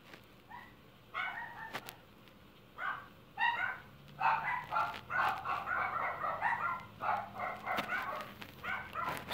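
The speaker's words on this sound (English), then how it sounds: "My dogs are barking" Dogs barking repeatedly at close range, a run of sharp yips and barks in quick bursts, with a few whimpers between them.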